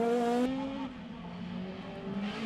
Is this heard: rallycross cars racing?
yes